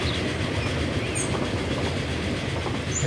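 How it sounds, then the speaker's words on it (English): A commuter train pulls into a station in Transport Fever 2, giving a steady, loud rumble of wheels and rail clatter throughout with faint squeals over the top and no voices. "Here comes another train"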